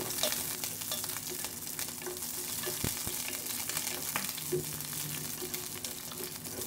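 Garlic sizzling and frying in a pan as the cooking of lamb begins, a steady close crackle with occasional stirring clicks and no talk.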